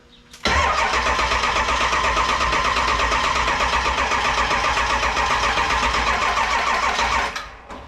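A swapped-in Ford 7.3 Powerstroke diesel engine on a standalone wiring harness cranks slowly and steadily for about seven seconds, a loud, close, sustained churning with a rapid chugging pulse and no clear catch.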